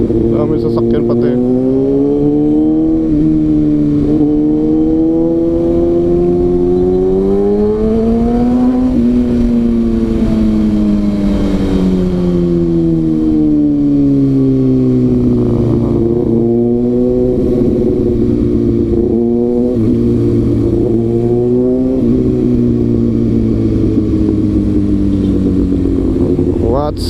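A Kawasaki ZX6R sport motorcycle weaves through city traffic between Parañaque and BGC Taguig, its engine droning loudly and constantly as revs rise and fall through shifts, with wind noise and a rider occasionally talking beneath it.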